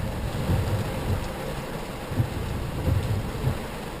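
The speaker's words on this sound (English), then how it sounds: "Here comes my heavy storm." A heavy thunderstorm with steady, dense rain and deep rolls of thunder rumbling repeatedly underneath, fairly close and continuous with no talking.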